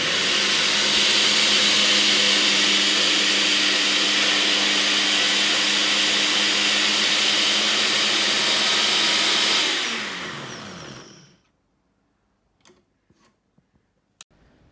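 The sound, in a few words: electric blender grinding roasted panch phoron and mustard seed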